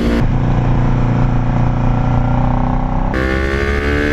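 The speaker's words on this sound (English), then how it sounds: "Because that's what the motorcycle sounds like." Motorcycle engine revving on an open country road, loud and close, a sustained throaty drone that shifts pitch partway through as it accelerates.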